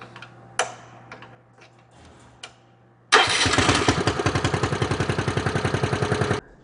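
A few light ticks and clicks come first, then the hydraulic dump pump on a 1980s John Deere AMT 600 Gator starts abruptly into a loud, close, rapidly pulsing mechanical drone that runs steadily to the end.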